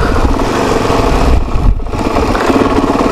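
A Suzuki DRZ400SM motorcycle engine runs steadily up close, a continuous mid-pitched throb with a brief dip before the note picks up again during a small wheelie.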